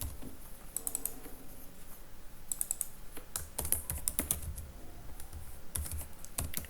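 Programming code is typed on a computer keyboard in quick, uneven bursts of light key clicks, close and soft, with short pauses between runs and no talking.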